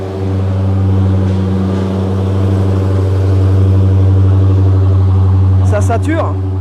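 A car engine held at high revs in a garage, a strong steady drone with a brief surge near the end, and someone briefly speaking in French over it.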